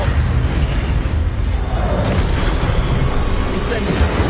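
Expelliarmus spell effect in the Hogwarts Legacy video game: a loud, booming blast with dense rumbling, heard alongside a voice.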